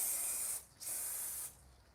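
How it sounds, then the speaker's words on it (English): Cleaning foam sprays from an aerosol can in two short, loud hissing bursts separated by a brief pause, close and alone. "The best thing to use in this situation, rather than the spray, would be the foam"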